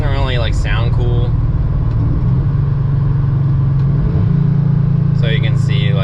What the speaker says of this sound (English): So if I just like downshift right now with it in auto, it's gonna be pretty lame.